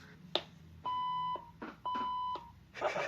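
A CIP 850 electronic intercom calls an extension with two long, steady electronic beeps, clear and close, separated by brief clicks from button presses.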